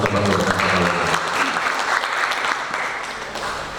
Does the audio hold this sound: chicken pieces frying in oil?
no